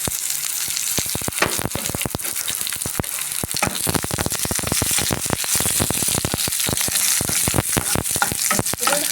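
Chopped onions frying with whole spices in a pan while cooking paneer butter masala, a dense, steady crackle and hiss with constant sharp pops throughout, close and loud, with no talk.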